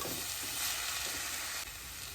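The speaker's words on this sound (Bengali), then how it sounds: "করে ভালো করে সব চাউমিনের সাথে সুন্দর করে আমি সবজিগুলো মিশিয়ে নেব" Chow mein and vegetables stirred in a wok, a faint steady hiss of frying with soft irregular scraping of the spatula, distant and low in level, no voices.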